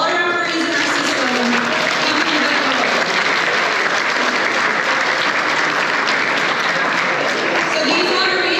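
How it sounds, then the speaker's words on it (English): Audience at a volleyball awards gala applauds referees, a dense, steady wash of many hands clapping that fills the whole stretch, loud and close, with a voice briefly over the start. "So round of applause for all our referees in our system."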